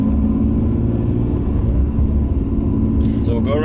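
A 1991 Nissan Skyline R32 GTS-T engine drones steadily from inside the car while driving, a constant low rumble that briefly shifts near the end.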